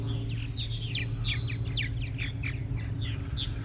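Purple martins chirp at a feeder, a lively run of short, bright calls and squeaky tweets over a steady low outdoor hum, fairly close.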